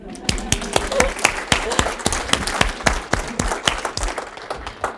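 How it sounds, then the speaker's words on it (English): An audience applauds with sharp, distinct claps ringing through a lecture hall, a steady run of many hands close by at moderate volume for the whole stretch. "I think we should applaud Patsy."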